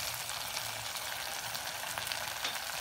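Bajra shak, a millet dish, sizzles in oil in a pan, a continuous crackling fry heard close and fairly quiet, with fine popping spatters throughout.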